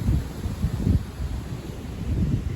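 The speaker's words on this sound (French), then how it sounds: "les premières rafales de vent à 80 km/h" Gusty wind around 80 km/h buffets the microphone outdoors, a low rumbling roar that swells and eases in uneven surges.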